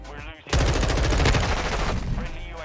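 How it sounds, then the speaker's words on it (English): Loud, rapid automatic gunfire from the Modern Warfare 2 beta, a dense sustained burst starting abruptly after a brief quiet moment and continuing to the end. "I shot him in his body."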